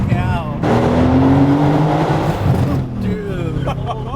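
A straight-piped Mercedes-AMG C63 S with downpipes revs hard and close, its loud, raspy engine note holding steady before dropping off, while excited voices talk over it.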